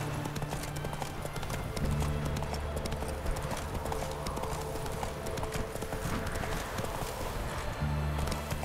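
Horse galloping in The Witcher 3 video game, a steady rhythmic clip-clop of hooves running throughout, close and continuous, with a faint voice briefly under it.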